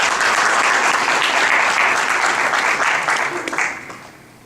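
Loud, dense audience applause at a Sikh community gathering on the Gadar movement history, sustained for about three and a half seconds before thinning out and fading at the end.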